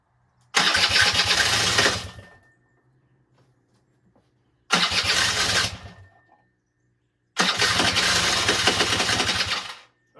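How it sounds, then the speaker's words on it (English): A barn-find Suzuki LT-80 two-stroke ATV engine is cranked in three separate bursts, each one sputtering and buzzing loudly for a couple of seconds before dying out, with quiet gaps between attempts. "It is sputtering, so it does have spark and everything is working."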